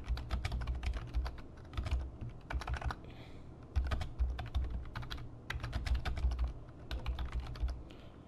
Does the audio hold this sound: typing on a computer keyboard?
yes